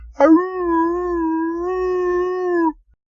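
A single long, steady Dalmatian howl rises slightly and holds for a couple of seconds before fading out, clear and close with nothing else around it.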